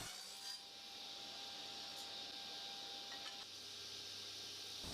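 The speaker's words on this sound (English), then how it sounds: "when I tried to do the miters, the saw was struggling a bit" Steady, continuous sawing through very hard Karri timber while cutting a miter, a constant high-pitched grinding hiss as the saw struggles, close and fairly loud with no pauses.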